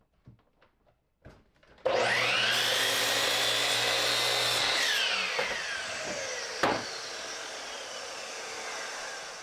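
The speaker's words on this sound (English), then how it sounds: "Go cut that on the miter saw" A miter saw spins up sharply and cuts through 2x4 lumber: a loud, whining motor rise with a bright tonal sweep, a brief snap during the cut, then the blade winding down, preceded by a few faint knocks.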